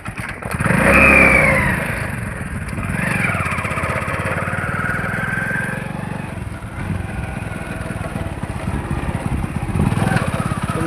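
A motorcycle engine runs close by, loud and steady for about eleven seconds, with a brief rev near the start that settles into an even, throbbing hum with no talking.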